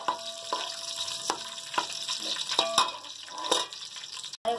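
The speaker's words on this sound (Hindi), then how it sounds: "गरम मसाला फ्राई हो गया, खुशबू आने लग गई है।" Garam masala sizzles and crackles in a hot pan, a continuous close frying hiss broken by a few sharper stirring clicks, with no talking over it.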